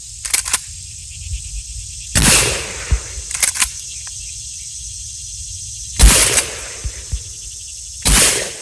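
KSG 410 shotgun shots, loud sharp blasts at wide intervals outdoors, with smaller clacks of the pump action cycling in between and a quiet background.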